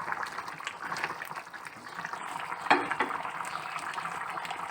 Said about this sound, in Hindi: अब मैं इसको तेज़ फ्लेम पे अच्छे से भून लूँगी टमाटरों के साथ।